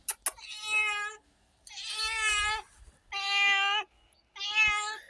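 A cat meows four times, loud and close, each drawn-out cry separated by short silences.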